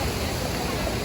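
Indoor waterfall in a large Seoul shopping mall gives a steady broadband rush of falling water, moderately loud and continuous in a brief burst.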